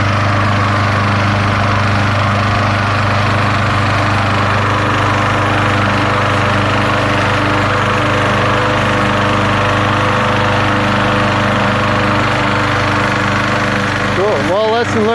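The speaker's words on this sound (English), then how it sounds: "I am mowing the same lawn over and over." A petrol lawn mower with a 22-inch deck runs steadily and loud throughout, its engine drone constant and close with a slight pitch wobble near the end.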